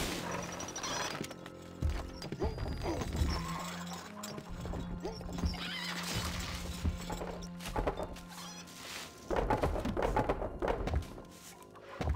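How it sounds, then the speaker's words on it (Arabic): Horse hooves galloping in the Stronghold Crusader strategy game, dense thudding clip-clop under busy battle noise, with neighing and heavy thumps amid a layered game soundscape. "الفرس تعدو."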